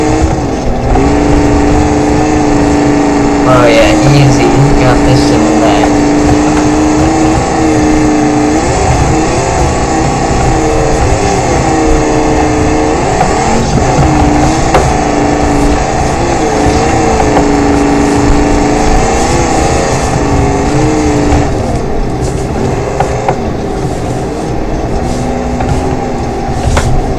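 Offroad vehicle with big tires and a massive engine in BeamNG.drive, a loud continuous engine drone that rises and falls in pitch as it revs and shifts, with no talk over it.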